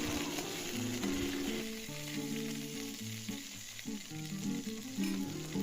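Green chilies, cinnamon, cloves and cumin sizzle steadily in hot oil for a Chettinad chicken gravy, a constant close frying hiss beneath melodic background music.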